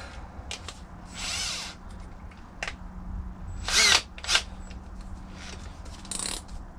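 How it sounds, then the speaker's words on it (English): Power drill boring holes in an RC car part on a workshop bench, several short whirring bursts separated by pauses, close and moderately loud, with small handling clicks between. "Once that one's drilled, line up to the next hole,"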